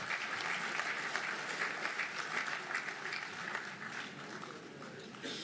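An audience at a performance contracts signing ceremony applauds an official, producing a fairly faint but sustained patter of many clapping hands that holds steady throughout.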